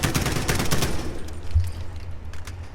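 Rapid automatic gunfire from a video game weapon at near its maximum trigger rate, a dense burst of close, loud shots that fades into quieter scattered sounds toward the end.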